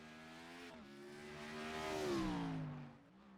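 A Gen 4 '03 Cup car engine in iRacing at Sonoma climbs in a sustained rev as the throttle comes back on after a slide, the harmonic whine rising and falling, loud and close with no talk over it.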